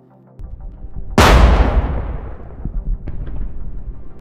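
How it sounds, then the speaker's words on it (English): A tank's ammunition blows up after a grenade drop in a combat strike on a Russian T-90M: one sudden, loud boom that rolls into a long, decaying rumble, with a smaller bang following shortly after. "A large explosion occurs with the tank's ammunition, and flames engulf the entire tank in a short time."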